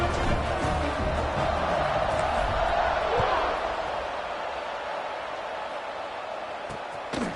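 Stadium crowd at a Duke at UNC college football game roars loudly and steadily, a dense wash of cheering that eases slightly toward the end with a brief burst at the close.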